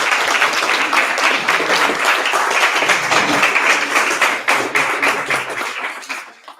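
Audience applause at a startup demo night in Cornwall, a sustained, loud burst of many hands clapping in a room, holding steady for several seconds and then thinning out toward the end.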